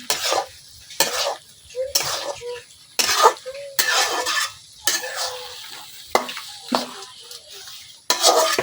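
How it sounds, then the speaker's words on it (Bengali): Pangas fish head and taro stem curry being stirred in a pot, repeated rough scraping bursts of a spoon against metal in an uneven rhythm, with gaps of quieter bubbling between strokes and no talking. "এখন আমি এভাবে নাড়াচাড়া করে রান্না করে নেব"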